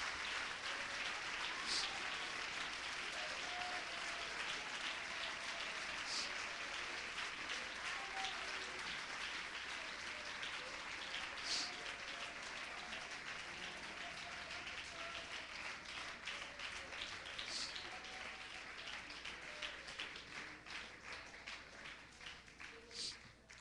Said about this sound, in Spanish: Dele aplausos al Señor